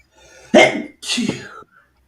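Two quick, close sneezes in a row, sharp and explosive, with brief quiet before and after.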